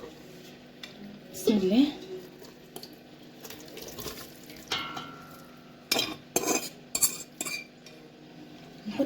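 Kofta meat mixture going into a mold in a home kitchen, with soft dull scrapes and bright clinks of utensils on dishes, plus a brief spoken phrase early on.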